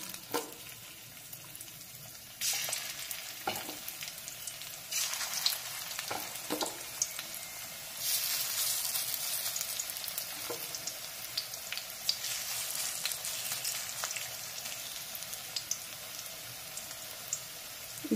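Spring onion and pea pakoras fry in hot oil with a steady, bright sizzle and crackle throughout, swelling louder in bursts with occasional sharp pops, no voices present.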